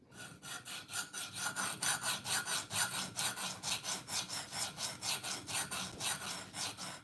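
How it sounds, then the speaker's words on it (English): A Spyderco Native Chief knife in M4 steel is drawn across a 100 grit KME Gold Series diamond plate in quick, even rasping strokes, about three per second, close and fairly quiet with no talk. "this is the 100 grit KME Gold Series diamond plate"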